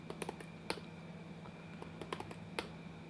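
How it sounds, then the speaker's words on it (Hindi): Names being typed on a computer keyboard, a close, quiet series of irregular key clicks with brief pauses between bursts, heard over a faint steady hum. "जैसे मैं नाम टाइप कर रहा हूँ"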